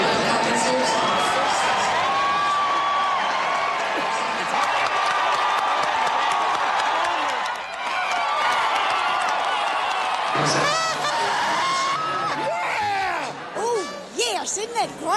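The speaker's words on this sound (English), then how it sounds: "the roar that went through this room when they announced that George W. Bush took Al Gore's home state of Tennessee" A packed room at a George W. Bush election night party roars and cheers, with whoops, shouts and scattered clapping swelling and surging loudly throughout, voices mixed into the din.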